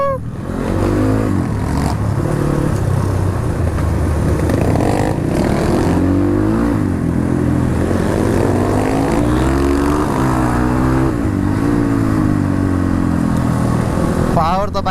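Several dirt bikes, including an RM cross bike, rev their engines loudly and continuously on a ride in Kathmandu, the motor note rising and falling close by while people talk over it.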